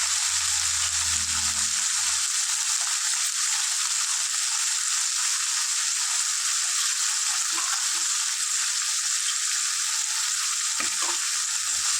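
Mint leaves frying in a pan give a loud, steady, close hiss of sizzling oil that runs unbroken throughout, with a few faint stirring knocks near the end.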